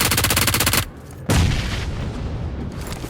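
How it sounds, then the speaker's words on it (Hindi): Loud, close automatic gunfire rattles in a shooter video game, a fast rhythmic burst that stops, then a heavy boom followed by continuing shots and rumble. "फायर दिया, कुछ भी नहीं हुआ।"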